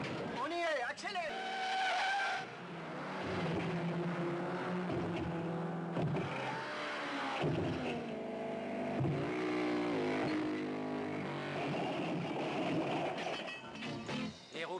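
A stunt car accelerates and skids along a ramp setup, tires screeching and engine roaring in loud, rough bursts across the whole stretch, while people talk in French over the noise.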